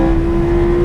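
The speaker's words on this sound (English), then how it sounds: "When you get to the rev limiter in Corsa, it will not upshift for you." A Lamborghini Performante Spyder's engine holds at the rev limiter in Corsa mode, a loud, close, steady buzzing drone with a fixed pitch and no shift in the short burst.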